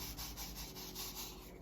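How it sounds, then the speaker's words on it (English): Sand being poured and mixed into a homemade kinetic sand mixture, a faint close gritty rubbing and scraping in short rhythmic strokes, with no talking. "we're gonna add the rest of this sand here"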